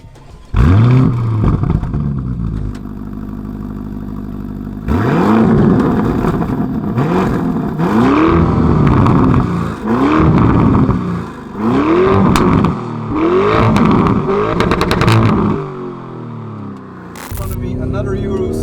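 A 2021 Lamborghini Urus with an Akrapovic exhaust drives downhill toward Mount Etna, its loud engine repeatedly revving up and dropping back as it shifts through gears, close and dominant throughout.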